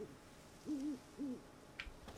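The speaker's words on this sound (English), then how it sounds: "being greeted with the sound of the rustling leaves, birds singing, is just as nice" Two soft, low owl-like hoots sound a moment apart in the forest ambience of The Witcher 3: Wild Hunt, quiet and somewhat distant, followed by a faint higher chirp.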